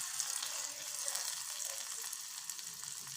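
Hot oil tempering with dried red chillies and curry leaves, poured over beetroot pachadi, makes a steady close sizzle and crackle that holds strongly for the whole moment, with no voices.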